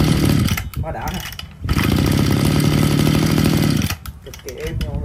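Small 26cc Mitsubishi TL261 two-stroke brush cutter engine with a 33 mm cylinder, running loud and close with a steady buzzing drone that dips briefly twice before picking back up.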